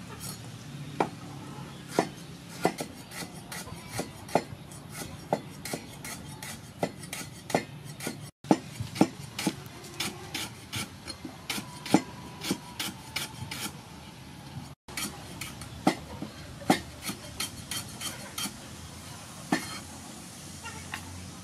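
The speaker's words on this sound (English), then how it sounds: "Then I'm going to slice lemongrass stalk." A knife slicing a lemongrass stalk on a cutting board, a steady series of crisp close chops, roughly one or two per second, clear and alone, for a spicy stir-fried gizzard dish.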